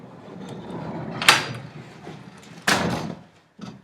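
Large, heavy wooden pocket doors slide in a restored house, with two sharp rolling bursts of movement and a softer knock near the end, close by in a quiet room.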